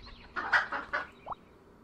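A chicken in the video game School of Dragons gives a quick string of clucks followed by a brief rising squawk, clear and moderately close over faint background game ambience, with no speech.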